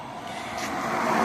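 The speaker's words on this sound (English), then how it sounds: "Lots of cars go down the road." Cars drive along a road nearby, a steady broad rush of traffic noise that swells slightly louder over a second or so, with no talk.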